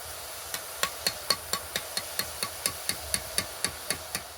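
Boondi batter dropping into hot frying oil for malai bundiya, a steady series of about fifteen sharp, evenly spaced crackling pops over a soft background hiss.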